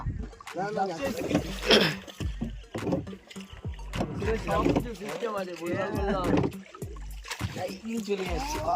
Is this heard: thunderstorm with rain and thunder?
no